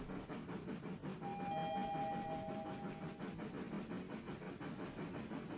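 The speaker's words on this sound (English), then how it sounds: "The train will be arriving in Snoozeville shortly. Please remain seated until the train has come to a complete stop." A train rumbles steadily as it runs into a station, with a continuous rolling roar, faint rhythmic clatter and a brief high squeal of brakes or wheels midway, moderately loud and with no voices.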